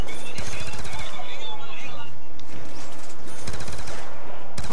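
Rapid automatic gunfire from Call of Duty Black Ops 2 Zombies, Tranzit map, sounds in loud dense bursts that fill the scene, with a voice partly buried underneath.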